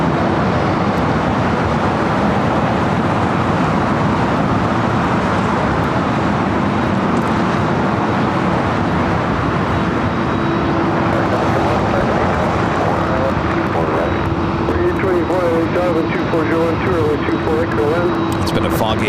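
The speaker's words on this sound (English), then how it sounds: "Delta 767 400ER. This is Flight 939, taking off to JFK." A Delta Boeing 767-400ER heavy jet takes off on a foggy, hazy morning, a loud continuous engine roar with a steady whine running throughout, while people talk over it.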